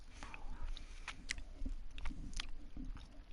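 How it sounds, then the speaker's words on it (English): Close-miked chewing of a sweet, with soft wet crunches and mouth clicks in an irregular rhythm, fairly quiet and heard alone without talk. "I'm chewing a sweet at the moment."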